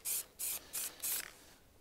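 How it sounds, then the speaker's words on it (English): Aerosol spray paint can laying down a primer coat, heard as four distinct hissing bursts in steady rhythm, each roughly a quarter second long, close and clear with brief quiet gaps between. "I'm going to start doing a bit wetter coats now. So keeping the can upright."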